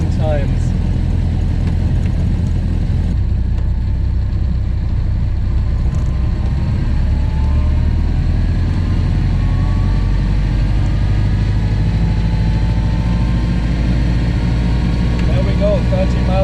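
A Ford Model A engine hums steadily at low-mid pitch as the car drives and shifts up through the gears, rising slightly in pitch with speed, with a continuous road rumble underneath and someone talking over it.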